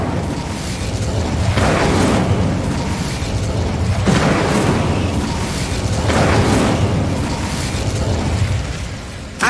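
The Incendio fire spell blasts in Hogwarts Legacy with a loud, continuous roaring whoosh that swells in repeated bursts about every two seconds, dense and close with no voices over it.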